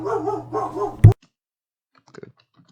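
Dogs bark in a short run of close, loud barks, followed by a sharp knock and then near silence with a few faint, scattered sounds.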